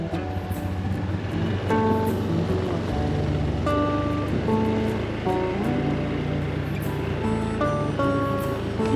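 Waves washing onto a sandy beach in Indonesia, a loud continuous surf wash with no speech.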